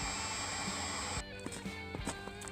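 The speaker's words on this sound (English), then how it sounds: "I stuck that blow dryer, that commercial blow dryer." A commercial shrink-tube blow dryer heats the frozen final drive of a Gehl Hydracat 4400 skid steer, giving a steady whining roar for just over a second before it cuts off, followed by scattered clanks and knocks.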